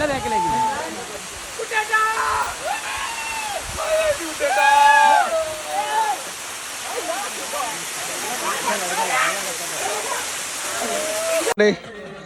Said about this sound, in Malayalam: വെള്ളച്ചാട്ടം നമ്മൾ കണ്ടുകൊണ്ടിരിക്കുന്നത്